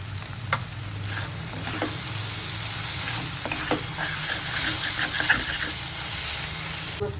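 Chopped eggplant is stirred into a hot pan for Maharashtrian bharit, with a steady sizzle and hiss of frying under scattered scraping clicks of the spoon against the pan.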